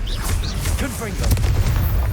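Confringo blasting curse going off in Hogwarts Legacy, loud booming blasts and crackling impacts mixed with whooshing spell sounds, close and busy, growing heavier toward the end.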